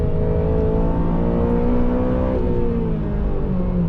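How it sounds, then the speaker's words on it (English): Honda Civic Type R FN2 engine revving steadily near its rev limiter, a loud, sustained high-pitched drone with faint wavering harmonics throughout, heard from inside the car with no talking. "Hit the rev limiter."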